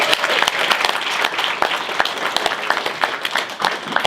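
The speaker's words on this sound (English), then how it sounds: "So let's give a round of applause for, first we're going to introduce tonight's moderator," An audience at an evening event at a cartoon art museum gives dense, steady applause, many hands clapping together without pause for the whole stretch.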